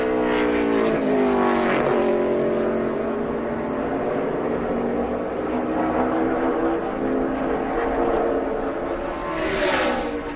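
NASCAR Nationwide race car on a qualifying lap, its engine roaring past with rising and falling pitch, fading in the middle before a second loud pass sweeps by.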